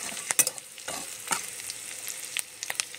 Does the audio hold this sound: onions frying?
yes